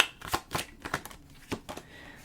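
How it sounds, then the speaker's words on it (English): A deck of tarot cards is shuffled by hand in a series of quick riffling bursts, close and fairly quiet, spaced irregularly with short pauses between. "Let me shuffle it one more time, just pull the last two cards."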